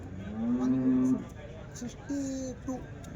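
Cattle lowing nearby at the Sunday cattle market in Chintamani, one long moo followed by shorter calls, with people talking in the background.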